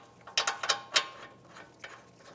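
A ratcheting socket wrench with a 22mm socket tightens the brake caliper bracket mounting bolts on a 2012-2018 Nissan Altima, giving a close series of quick clicking ratchet strokes followed by a couple of fainter ones.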